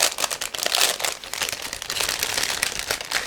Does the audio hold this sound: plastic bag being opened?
yes